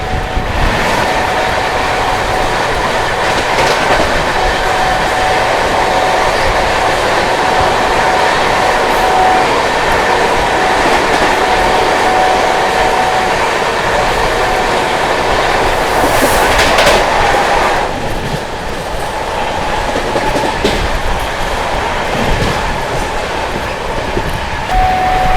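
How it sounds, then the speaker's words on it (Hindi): Okha–Gorakhpur Express passenger train running at speed on Indian rails, heard as a loud continuous rumble with rhythmic wheel clatter and a brief high squeal, the roar shifting in tone partway through as it rushes by close. "ओखा गोरखपुर एक्सप्रेस।"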